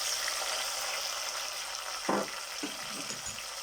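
Onion and tomato sizzling in a pan over low heat, a soft steady frying hiss broken by a few scraping stirs of a spoon.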